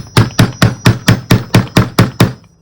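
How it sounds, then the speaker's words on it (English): Ten even hammer blows in quick succession, each a sharp loud knock, as a hole is punched into the back of a metal bottle cap laid on an old washcloth for a craft project, with no talking. "Just hammer 1 hole in the back of this."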